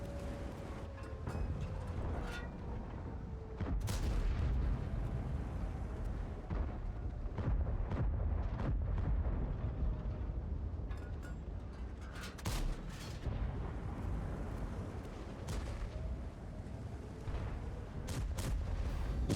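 Tank gunfire and explosions from a tank video game boom at intervals over a constant low engine rumble, with sharp cannon shots and distant blasts scattered across the stretch.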